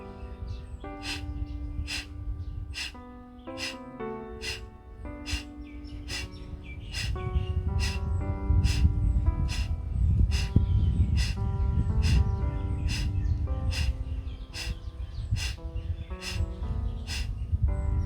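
Forceful rhythmic yoga breaths for energizing, sharp repeated exhalations at a steady fast pace, close and loud over a soft musical background.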